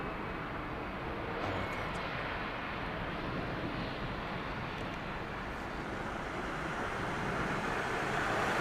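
A distant Oman Air jet airliner approaches London Heathrow Airport, a continuous broad rushing roar that stays steady and grows slightly louder toward the end, heard outdoors with wind noise and no talking.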